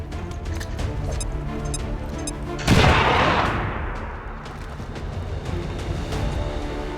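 A grenade detonates in the video game XCOM 2, a single loud burst with a broad crash that decays over about a second, set against steady game ambience and music with no talk.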